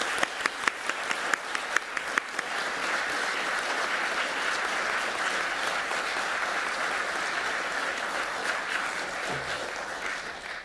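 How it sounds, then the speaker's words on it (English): An audience bursts into applause, a few distinct early claps quickly swelling into sustained, dense clapping that holds steady for several seconds before easing slightly. "I would ask you all to please join me in a rousing round of applause for both of them."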